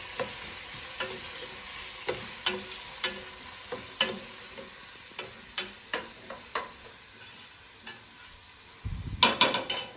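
Onions browning in a pan on a stove set near high heat, a soft continuous sizzle under regular sharp scraping stir strokes about every half second, then a louder clatter of stirring at the end.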